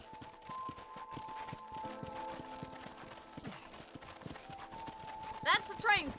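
Horse hooves clip-clop steadily near a corral in the western video game Red Dead Redemption, a rhythmic stream of hoof beats under game music and voices talking.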